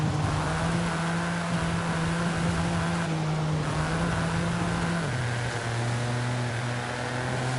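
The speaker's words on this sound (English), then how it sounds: "If I keep the car down in second around that corner, it will rev out at 61 miles an hour." A race car on a racing circuit holds its engine high in second gear through a corner, a steady loud droning whine with pitch shifts and a drop as it eases, alone without talk.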